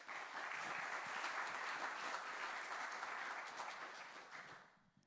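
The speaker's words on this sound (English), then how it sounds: "Let's give them a round of applause." Audience applause for the panelists at a community partners event, steady and full for about five seconds before tapering off at the end, with no talk over it.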